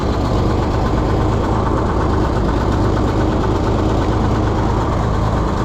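A 1948 John Deere B tractor engine runs steadily up close, a loud, continuous low chugging idle with a rough, knocking vibration throughout.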